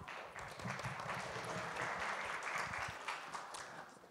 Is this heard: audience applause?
yes